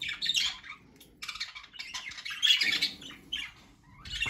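Budgerigars squawk and chirp in shrill, bursting calls that come in uneven clusters with short pauses between them, close by and fairly loud, with no voices over them.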